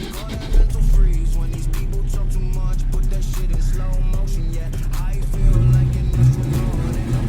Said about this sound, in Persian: این ماشین روشن میشه.